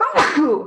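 A single short, loud sneeze close by, followed immediately by a brief spoken exclamation.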